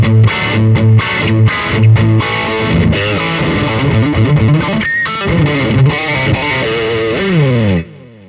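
Heavily distorted electric guitar through a Neural DSP Quad Cortex running a hairy, high-gain capture of a Noble Audio 1, playing loud, dense riffs and chords for about eight seconds before cutting off abruptly.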